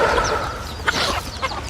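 Chickens clucking around a coop on a rural farm, with short bursts of clucks over a busy outdoor background, fairly close and loud, no talking.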